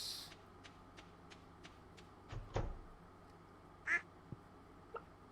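A duck on a Stardew Valley farm quacks faintly, giving a short call or two among quiet clicks and a soft thump, with no other sounds.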